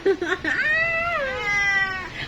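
A cat meows loudly and up close, a few short cries followed by one long drawn-out wavering caterwaul.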